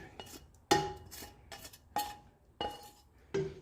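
Metal spoon scraping cooked meat and its juices into a chili pot, a series of sharp clanking scrapes against the pot roughly every half second to second, close and clear, with no talking.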